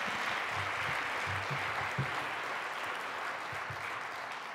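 Audience applause at a university State of the University address on the University Park campus, a sustained wash of clapping from a large crowd that holds steady and fades slightly toward the end.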